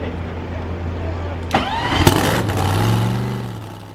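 A powerful drag car engine cranks and roars to life with a sharp rev, then settles into a rough, loud idle, at a car show.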